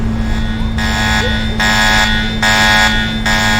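An electronic alarm in the video game Mr. Meat pulses on and off in regular bursts, loud and insistent over a constant low hum.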